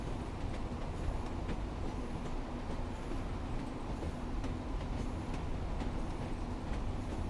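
A train rolling along track in the Train Sim World 5 simulator on the Blackpool branch line, a steady close rumble with faint rhythmic rail clicks and a bouncy ride, continuous throughout with no talk.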